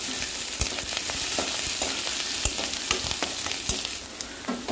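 Curry leaves and garlic frying in a pan while being stirred: a continuous close sizzle dotted with sharp crackles and pops throughout, with no voices.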